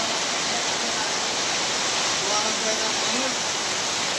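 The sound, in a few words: very heavy rain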